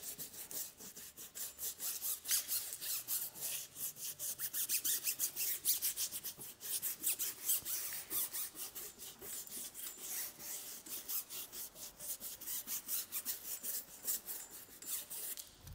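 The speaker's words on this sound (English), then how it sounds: "Scrub once again." A brush scrubs a tire sidewall coated with Turtle Wax Mister Cartoon acrylic tire coating, making rapid, rhythmic bristly rasping strokes close up, fairly soft with brief pauses between bursts, and no talking.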